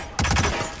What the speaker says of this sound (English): Shoot that guy, shoot that guy, shoot that guy, shoot that guy.